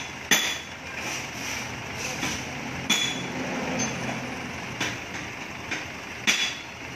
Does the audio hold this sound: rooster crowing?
no